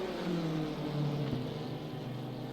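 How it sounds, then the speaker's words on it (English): Racing car engines at Monza in a video game hold a loud, continuous drone with steady whirring harmonics and a slight pitch shift, as if passing at speed, with no voices. "Apologies for the loud engine noises."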